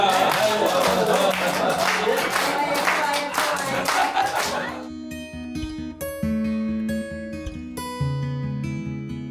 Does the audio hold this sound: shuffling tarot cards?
no